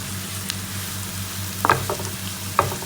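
Onions softening in a pan for Kerala-style chicken kondattam, a steady low sizzle of frying with a few brief stirring scrapes and clinks, close and alone without speech.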